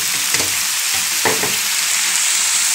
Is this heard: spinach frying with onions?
yes